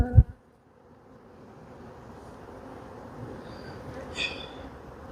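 Honeybees in an open warm-way hive during an autumn inspection, a faint continuous buzz that swells gradually after a brief knock, with a few higher tones near the end.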